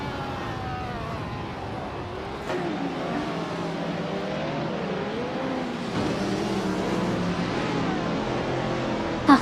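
Race car engines in a video game race with AI cars drifting, a continuous droning whine that rises and falls in pitch, ending with a short sharp click.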